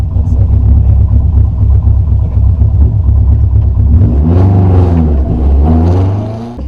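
A rally car engine rumbles loudly and steadily up close, then revs up sharply in a couple of rising bursts.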